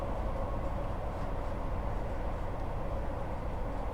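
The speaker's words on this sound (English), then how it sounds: "I thought that was a train." A passing train in the video game Train Sim World 4 on the UK's Midland Main Line, heard from a Class 158 cab as a steady, loud, broadband rumble and rush that continues unbroken with no talk.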